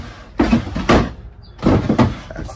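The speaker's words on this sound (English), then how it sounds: "So all these drawers, you had a pretty neat mechanism where they stay put." Two bursts of wooden drawer handling in a restored Aljo camper trailer, each a scrape and knock as the drawer is lifted and shifted, close and fairly loud with quiet between.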